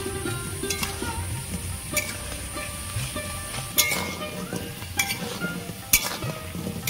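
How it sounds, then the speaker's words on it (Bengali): Fish roe pakoras frying in oil while being stirred, a soft continuous sizzle broken by periodic metallic scrapes and clinks of a spatula against the pan, close up with no talk. "পকোড়াগুলো আমি এইভাবে নাড়াচাড়া করে ভালো করে ভেজে নেব।"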